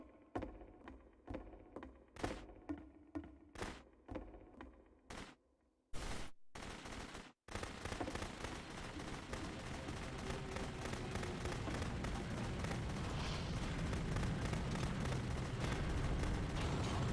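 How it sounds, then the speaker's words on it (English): Gunfire in the video game The Beginner's Guide starts as a series of single, evenly spaced shots, then turns into a loud, sustained burst of continuous firing. "Remember, you can click to fire the gun."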